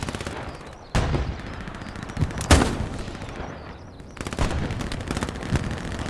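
Dense gunfire from the World War II shooter Hell Let Loose rattles through the scene, mixing rapid machine-gun bursts and scattered single shots, some near and loud, others farther off.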